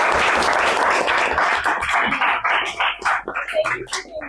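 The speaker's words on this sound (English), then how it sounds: "Please get a big round of applause for Ava." Students applauding at a school event, dense clapping that thins out into scattered individual claps, with some voices in the room near the end.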